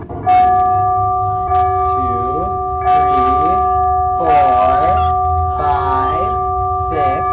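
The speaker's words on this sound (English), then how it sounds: "a clock downstairs started to chime" A downstairs clock chiming midnight, a series of sustained bell-like tones struck at a steady rhythm, with a voice talking over them.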